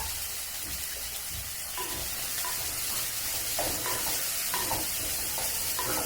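Onion, curry leaves and green chilies frying in hot oil for a Kerala packed-rice meal, a constant close sizzle with scraping stirs from a spatula at irregular intervals and no talking.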